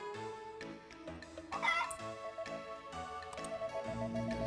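A chicken in the video game Harvest Moon: Back to Nature clucks and squawks in short bursts over game music during a chicken festival. The sound is quiet overall and has no talking.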